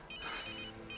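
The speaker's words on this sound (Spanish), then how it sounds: "Y el teléfono." A telephone ringing in a home, a bright electronic ringtone trill that is loud and close, filling nearly the whole second.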